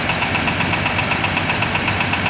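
A steady, loud idle from an ALS bus engine during servicing, a dense continuous drone with an even rhythmic chug that runs through the clip without talk.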